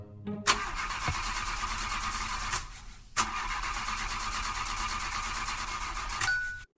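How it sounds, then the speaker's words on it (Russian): A sleigh engine in the Minecraft video game, out of fuel, tries to start: two long, loud mechanical cranking bursts with a brief gap and a clink, each cutting off without catching. "Опа, завести двигатель."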